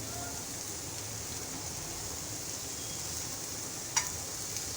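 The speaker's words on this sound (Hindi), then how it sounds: "कि हम अपना कीमा जो है वॉश किया हुआ वो इसमें ऐड कर रहे हैं" Washed minced meat added to fried onions in a pan over high heat, a steady close sizzle hissing throughout with one sharp clink near the end, no talk.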